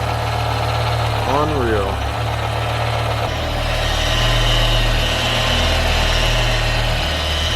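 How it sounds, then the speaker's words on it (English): A rebuilt V10 engine in a manual BMW M5 E60 idles close by with a steady, slightly uneven rumble, while a person speaks a single brief word over it. "This motor has had the lower half taken apart and is now put back together and running again."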